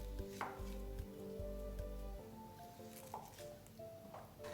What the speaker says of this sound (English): Next, for the onion, cut off the top and the bottom.